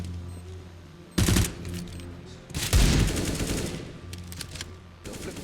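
Automatic-rifle bursts ring out in a Counter-Strike match between Anubis and Chosen5. Three loud rapid-fire volleys are separated by quieter game ambience, with the middle burst the longest.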